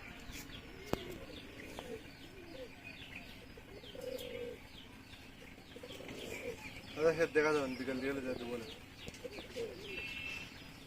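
A flock of domestic pigeons coos in a home loft, soft overlapping calls with a louder burst of cooing midway, while someone speaks briefly nearby.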